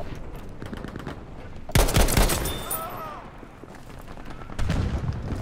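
Gewehr rifle fire in Battlefield V, rapid sharp shots layered with surrounding battle gunfire, with a loud burst near two seconds and another near the end amid continuous combat noise.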